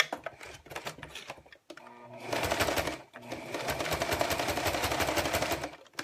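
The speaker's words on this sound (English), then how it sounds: "Our last step is just to sew along this bottom, and I like to sew as close to the edge as I can." Sewing machine stitching along the bottom edge of a zippered lining piece, a steady fast mechanical whir running in two long stretches after some short stop-start bursts.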